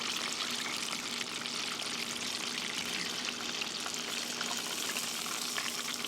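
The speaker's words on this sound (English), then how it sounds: "So I'll go ahead and let that deep fry probably for 3 or 4 minutes." Chicken deep frying in a pot of oil gives a steady, dense, bubbling hiss that runs evenly without pause, moderately quiet and close, no voices.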